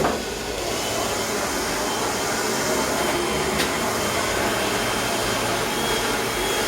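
A hair blower runs steadily in a beauty salon, a loud, even whooshing roar that holds for several seconds without talk.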